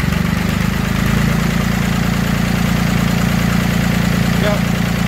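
A David Brown tractor engine runs close by with a loud, steady, throbbing diesel idle that rises slightly as it is revved, with a voice talking over it.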